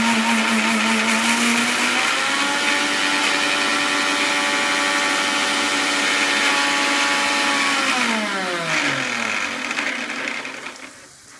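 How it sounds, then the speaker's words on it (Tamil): A kitchen mixie grinds ingredients with a loud, steady motor whine that holds for several seconds, then winds down and fades near the end. "அதை மிக்சியில் போட்டு"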